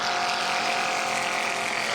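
A steady, loud engine roar with a constant drone and broadband rush as a Fisher Flying Products propeller aircraft makes its takeoff roll at an airshow.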